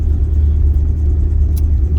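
A worn-out 1959 Cadillac sedan engine idles with a steady, loud low rumble, needing a rebuild with suspected worn lifters and bad seals; a brief higher click or tick cuts in near the end.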